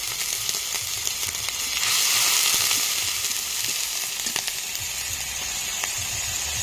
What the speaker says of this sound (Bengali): রসুন আর আদা অল্প একটু দিয়ে দিয়েছি এখন ভেজে নেবো